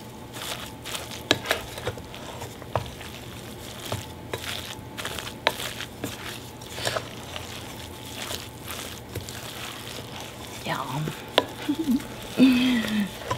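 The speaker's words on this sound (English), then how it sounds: "we're going to mush all this together" Corned beef hash with butter is mashed and stirred in a pan, giving a steady series of soft squishing thuds and scrapes under a gentle sizzle, with a faint whistle-like tone near the end.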